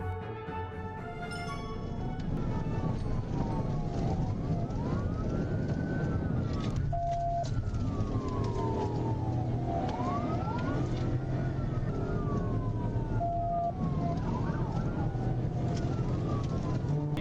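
Police car sirens wail in rising and falling sweeps during a high-speed chase, loud and steady, over a constant rumble of engine and road noise.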